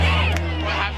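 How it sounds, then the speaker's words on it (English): A school homecoming crowd cheering and yelling loudly, a dense roar of many voices close by, sustained for the whole moment. "they are loud, they're hyped, they're cheering on their team"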